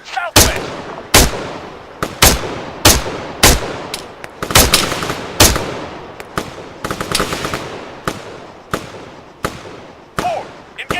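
Gunfire in the military shooter ArmA 3 comes as loud, sharp single shots and short bursts, spaced roughly every second and ringing out across a wide outdoor battlefield.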